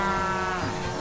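Cow loading sound effect from a train board game sound set, a sustained, tonal bleating bovine call filling the whole short moment, steady and close.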